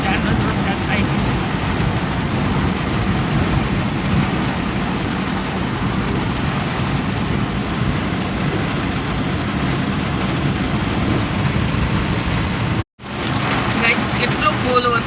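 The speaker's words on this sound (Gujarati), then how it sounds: "હવે બહુ વરસાદ આવી ગયો. જો ફૂલ વરસાદ આવી ગયો" Heavy rain pours down steadily and loudly, a dense continuous hiss close by, with a low engine-like rumble underneath and a brief dropout near the end.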